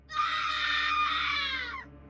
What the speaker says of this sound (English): a young barmaid's screams can be heard echoing from the rear cabins and down the corridors